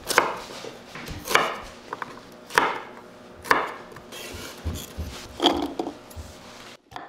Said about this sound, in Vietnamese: Đầu tiên mình sẽ cắt hành và tỏi.